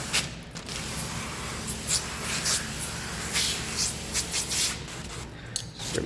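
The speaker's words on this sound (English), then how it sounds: "spray down our pattern." A spray bottle misting soapy solution onto a tint film pattern laid over a Kia Telluride front door window, giving repeated short hissing spritzes close by over a steady background hum.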